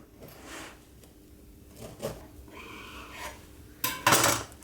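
A knife slices through a Nesquik génoise sponge cake with soft scraping and a few clinks against a plate or pan, closing with a louder clatter near the end, with no talking.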